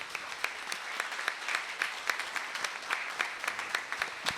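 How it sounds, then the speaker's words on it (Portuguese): An audience at a university tribute to a metalworkers' union applauds steadily, with dense clapping that carries on at an even level throughout. "Edmundo Oraldo, Geraldo Valgas e a Rita, levante para a gente fazer essa última salva de palmas."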